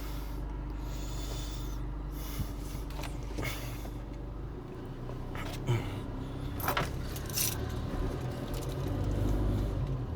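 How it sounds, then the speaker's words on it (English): House keys jangling as they are grabbed, small metallic clinks and rattles scattered over a steady low hum and shuffling handling noise, close by, with no speech. "Go grab my house keys."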